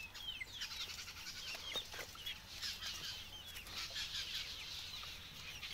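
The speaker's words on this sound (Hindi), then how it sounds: "देखिए दोस्तों कैसे मुर्गियां भाग रही हैं सब।" Desi chickens on a poultry farm cluck and squawk continuously, with many birds at a moderate distance under a steady background hum.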